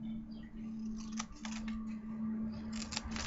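Scissors cut paper or card for a handmade soap box, giving a few quiet, close snips over a steady background hum.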